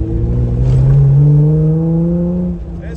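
A 3.6-litre Jeep JL engine with an aFe Power stock-replacement intake revs up and holds a rising nasal induction tone, then eases off near the end, loud and close.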